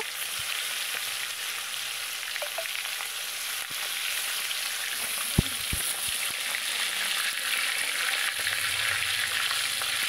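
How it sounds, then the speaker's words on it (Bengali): Fish for tel koi frying in hot oil in a large kadai makes a continuous loud, crackling sizzle, broken by a couple of brief knocks and clinks from the pan and utensils. "এবার এক এক করে মাছগুলো তেলের ওপরে দিয়ে দেব।"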